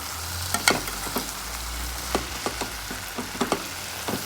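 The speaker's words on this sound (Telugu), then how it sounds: "ఇట్లా ఒక్కసారి మిక్సీ చేద్దాం" Ridge gourd and chana dal masala curry sizzles softly in a pan while a utensil scrapes and taps through it in irregular strokes, close by, with no talking.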